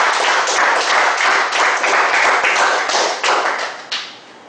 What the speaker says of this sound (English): you need a good round of applause